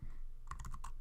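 Quiet typing on a computer keyboard: a quick burst of several light key clicks in uneven rhythm over a low background hum.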